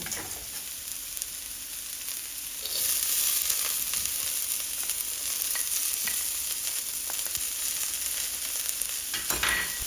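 Shallot, peas and carrots stir-fry in a hot wok, a loud steady sizzle that swells as the vegetables are tossed and stirred, with nobody talking.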